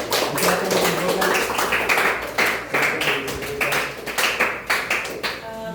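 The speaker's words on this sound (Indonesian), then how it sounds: "Oke, berikan tepuk tangan" A class claps together, a close, uneven burst of hand claps that swells and fades in waves, with some voices mixed in.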